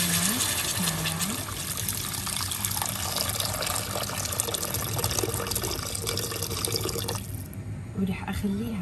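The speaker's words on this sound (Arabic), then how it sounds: "بعد ما قلبناه شوي ننزل عليه المي كمان" Water gushes from a tap or jug into a pot of browned, spiced chicken, a steady, close splashing stream under someone speaking Arabic. The pour stops near the end, leaving only her voice.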